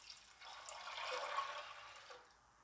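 Water poured into a pressure cooker holding chickpeas with turmeric and salt, a soft steady splashing stream that swells and then tapers off, quiet and close with no voices.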